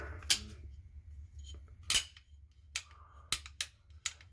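A standard mil-spec trigger on an AR rifle lower with an ambidextrous safety is dry-fired and reset, giving a few sharp metallic clicks and snaps spread across a quiet room with low background hum.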